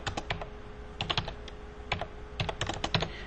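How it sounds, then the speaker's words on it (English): Keys clatter on a computer keyboard as an invoice date is entered, several quick bursts of close keystrokes separated by short pauses. "using just my keyboard, I typed in the month"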